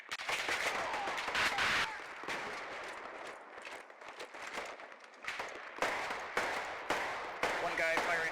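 Gunfire in the military shooter Squad, a string of sharp shots at moderate distance in irregular bursts, heard under a man's radio-style chatter throughout.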